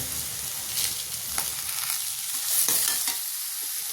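Green banana dry vegetable with coriander is stirred gently in a pan over low gas, a steady close sizzle with soft scraping strokes throughout and no talking.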